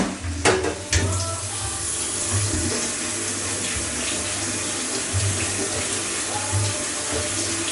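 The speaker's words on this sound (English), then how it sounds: "I'm going to rinse the kidney beans." Kitchen tap water runs steadily over kidney beans being rinsed, a continuous splashing flow with a couple of short knocks near the start.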